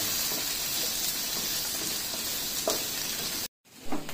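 Chicken lollipop pieces and vegetables tossed in a wok over a high flame give a steady, loud sizzle with light scraping and clatter, a brief break near the end, then more sizzling.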